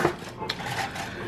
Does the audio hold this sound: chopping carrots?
yes